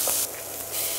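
Bell peppers hitting a hot pan for a tomato-sauce kebab dish give a steady close sizzle, loud and dense, easing briefly in the middle before swelling again, with no talking.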